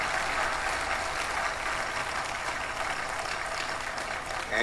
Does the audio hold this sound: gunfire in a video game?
no